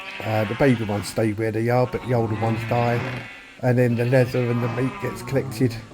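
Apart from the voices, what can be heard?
sheep bleating in Minecraft video game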